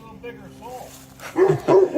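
Violet the dog barks in a few loud, close bursts toward the end, following quieter whimpery sounds, with people talking around her.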